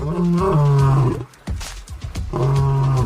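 A male lion gives two deep, loud, close roars with a brief grunting pause between them.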